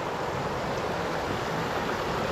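A river flows in a broad, continuous rush heard from a short distance, a steady even wash of water with no voices.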